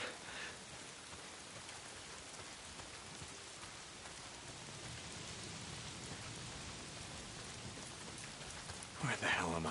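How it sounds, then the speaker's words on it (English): Steady rain in a video game patters on surfaces as a continuous hiss, with a brief louder burst of sound near the end. "Why is it always raining?"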